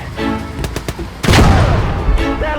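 Enemy cannon and small-arms gunfire erupt in a WWII video game battle: a few sharp shots ring out, then a loud heavy blast hits and is followed by sustained rumbling fire, with brief shouted voices in between.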